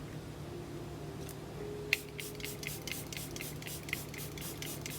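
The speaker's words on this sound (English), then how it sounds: "Charlotte Tilbury Flawless Airbrush Flawless Setting Spray." Charlotte Tilbury Airbrush Flawless Setting Spray is misted onto a face in a quick series of about a dozen soft, close pumped hisses, with a faint click at the start and no talk.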